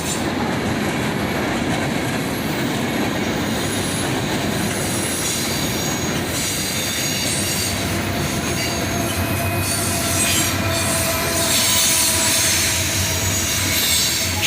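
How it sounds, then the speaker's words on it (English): A Norfolk Southern train led by locomotive 4000, an AC44C6M converted from a Dash 9, rumbles steadily past up close with loud wheel squeal and clatter throughout. "Now here comes that fourth locomotive"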